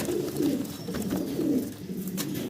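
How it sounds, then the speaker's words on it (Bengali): Several pigeons coo steadily and close by, soft rolling calls overlapping one another against a constant background hum. "চমৎকার এক জোড়া কবুতর এখানে"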